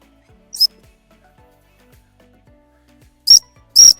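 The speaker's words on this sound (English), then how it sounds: "A little bit of hump whistle every time he picks the retrieve" Short sharp dog training whistle blasts during a gundog retrieve, one brief toot followed later by two louder quick blasts close by, with faint footsteps between and no talking.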